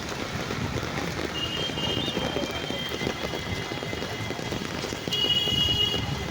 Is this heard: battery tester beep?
no